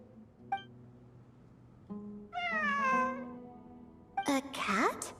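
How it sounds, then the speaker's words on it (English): A cat meows several times in the video game Genshin Impact, short calls spaced over a few seconds with the last one louder and more drawn out, heard over quiet game ambience. "It really is a cat."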